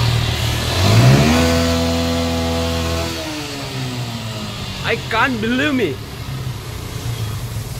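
A Yamaha Fazer motorcycle engine revs hard at a service showroom, climbing to a loud roar and then falling away to idle, while someone speaks over the running engine.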